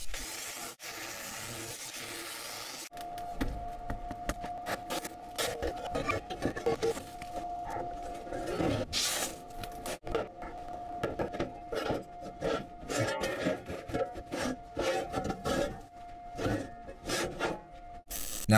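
Sheet metal rocket stove parts being marked, cut, scored and bent in a workshop, with a dense run of scraping, rasping and clanking strokes and a faint ringing tone through the middle.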